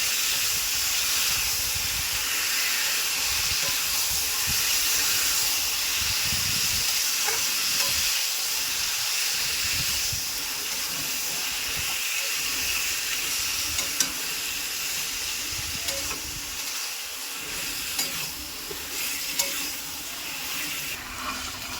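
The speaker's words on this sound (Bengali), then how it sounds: "এরপরে দিয়ে দিলাম কচু শাকটা কচু শাকটা একটু ভালো করে কষাতে হবে" Taro stems and greens frying with spices in a pan, a steady broadband sizzle and hiss with occasional stirring scrapes and bubbling, close and continuous without any talk.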